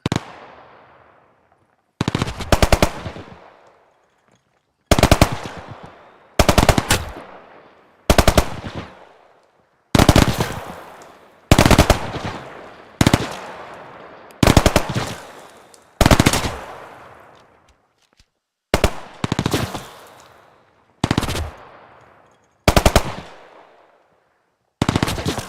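Gunfire from shooting in the video game The First Descendant, loud bursts of rapid automatic fire in short repeated volleys separated by brief silences, each burst trailing off, roughly a dozen bursts in all.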